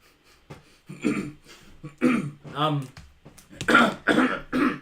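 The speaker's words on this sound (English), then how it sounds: "clearing my throat excessively" Several exaggerated throat clearings up close, rough voiced grunts and rasps coming in short bursts one after another.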